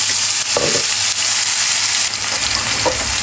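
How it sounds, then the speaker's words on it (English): Garlic and green onions sizzle loudly in a hot pan, with a dense, steady frying hiss and a few brief stirring scrapes, and no one speaks. "In goes your garlic and your green onions."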